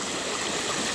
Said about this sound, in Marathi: एकदम परफेक्ट स्ट्रीम आहे